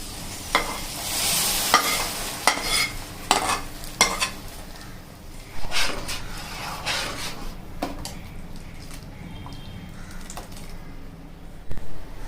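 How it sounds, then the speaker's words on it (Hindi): Fried dry fruits are stirred into sheer khurma in a pot, a spoon scraping and knocking at irregular intervals over a soft background sizzle, close and moderately loud, with no speech. "अब शीर खुरमे के अंदर हम ये जो हमने ड्राई फ्रूट फ्राई कर रखा है ये डाल देंगे।"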